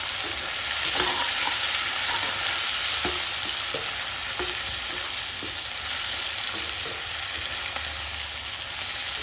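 Vegetables for chilli chicken, dusted with Kashmiri red chilli powder, are stir-fried in a hot pan, giving a steady close sizzle broken by scraping stirs throughout.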